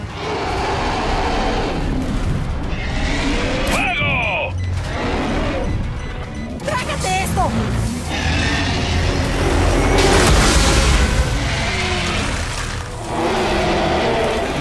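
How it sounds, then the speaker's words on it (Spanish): Gears 5 campaign combat with rail gun shots and explosions: dense, loud, continuous battle noise with several sharp blasts and impacts over rumbling low end, a voice briefly speaking amid the din. "lista el arma de rieles. Hay que recargar con cada tiro, así que úsenlos bien."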